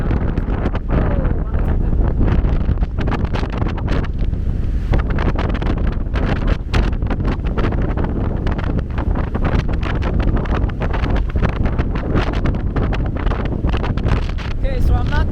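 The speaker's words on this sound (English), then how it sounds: "it's very windy" Strong wind buffets the microphone at Pali Lookout on Oahu, a loud, continuous roaring rumble with gusty fluctuations throughout and no pause.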